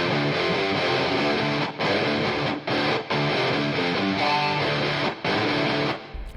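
Two thick, distorted electric guitars play a driving riff together, loud and continuous, broken by a few short rhythmic stops.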